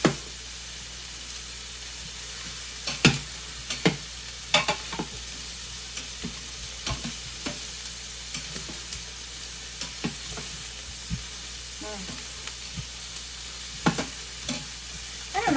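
Vegetables sizzle in an Instant Pot as they cook down, a steady frying hiss broken by repeated sharp clicks and scrapes of stirring spaced every second or so, no voices.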